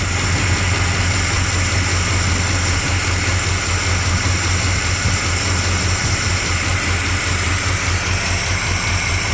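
A Mopar small-block engine with dual quad carburetors idles loud and close, chugging steadily and slightly rough on its own for the whole stretch.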